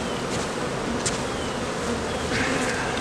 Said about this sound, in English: So I'm gonna kind of shake it here. There's too many bees.